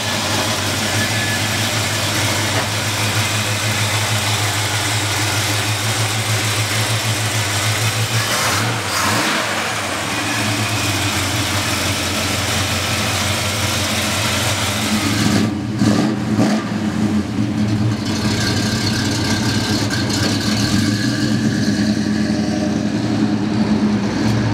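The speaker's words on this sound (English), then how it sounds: "Let's take our old 57 Chevrolet half-ton pickup truck for a ride." A 1957 Chevrolet 3100 Stepside half-ton pickup's engine runs continuously and close, rumbling at idle with a couple of revving swells partway through, no talking.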